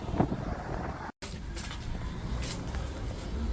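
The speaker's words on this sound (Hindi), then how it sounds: "और इतनी हवा चल रही है" Strong wind buffets a phone microphone outdoors on a windy day in the UK, low rumbling gusts filling the clip with a short dropout near the start and a few faint higher rustles.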